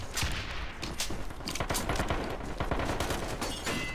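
Sustained automatic gunfire in the Metro Conflict shooter, a fast continuous stream of closely spaced shots for about four seconds, steady and fairly close, without talk.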